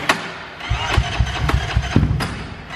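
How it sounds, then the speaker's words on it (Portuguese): A Honda CB 300R bored to 504cc tries to start: a starter churns in a rapid chugging rhythm, then the engine sputters and coughs in loud uneven bursts without settling into an idle. "O que acontece quando pega na partida, ó."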